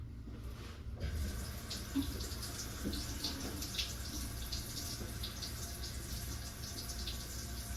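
Water runs steadily into a sink in a Sally Beauty shop in Madison, WI during a drain check, making a continuous close splashing hiss after a brief quieter start.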